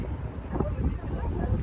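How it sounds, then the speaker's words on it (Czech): Wind gusting across a microphone outdoors above the Danube, a low rumbling buffet that runs steadily through the whole moment with a voice speaking over it. "Trošku tady fouká vítr."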